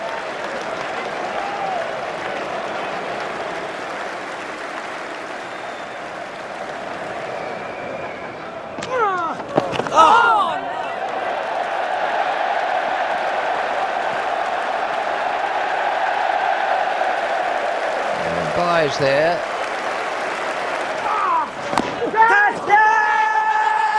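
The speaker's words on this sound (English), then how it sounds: "the crowd is going absolutely berserk" Cricket crowd at The Oval during the 2005 Ashes fifth Test, a broad distant roar of cheering and applause running under a commentator's voice, swelling with sharper bursts of claps and shouts at intervals.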